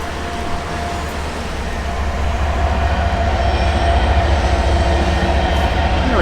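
Train passing close outside open windows, a loud continuous rumbling roar with rattling wheels on rails that builds slightly and holds steady, with faint squeals, no talking.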